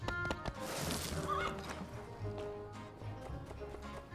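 A horse gallops in the video game My Time at Sandrock, its hooves clip-clopping in a quick, steady rhythm near the listener over game background sounds.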